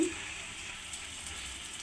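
Fish roe frying in hot oil in a wok, giving a steady, soft sizzle that holds evenly after a brief clatter at the start.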